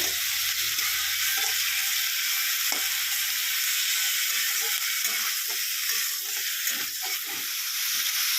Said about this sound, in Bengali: চিকেনটাকে একটু ভাজা ভাজা করে নেব